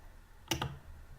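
A computer mouse gives a quick double click at close range, two sharp taps in a quiet room while working in Canva.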